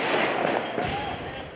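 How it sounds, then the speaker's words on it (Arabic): Gunfire in Paris during street protests: a couple of sharp, brief bangs at a distance over a noisy background of rushing crowd and street sound. "هذا صوت إطلاق نار في العاصمة الفرنسية باريس"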